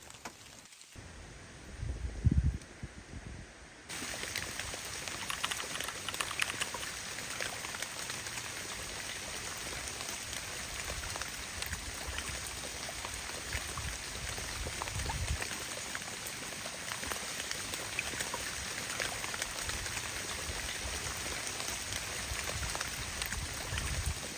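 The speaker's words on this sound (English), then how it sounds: "The rains continued to come, but eventually it came down harder as the winds picked up." Steady hurricane rain falls continuously, a dense even patter with a brief louder rumble near the start, then constant hiss throughout.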